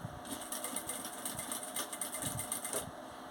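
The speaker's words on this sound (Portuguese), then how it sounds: "Vem comigo na máquina. Vou começar a minha costura aonde eu finalizei aqui com retrocesso aqui pra trás" A domestic sewing machine stitches and backstitches along bias binding on a fabric document and phone wallet, a quiet, rapid rhythmic whirring in short bursts without speech.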